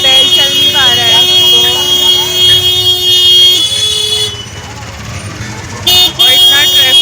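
Busy evening street traffic in Paharganj, Delhi, with car and motorbike engines and repeated horn toots blending into a dense, loud roar, while people talk nearby.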